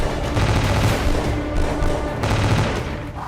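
Machine-gun fire from a Challenger 2 tank's mounted 7.62 mm gun and 12 mm rifle in the Zaporizhzhia fighting in Ukraine, loud dense bursts of rapid shots running almost continuously, with no speech.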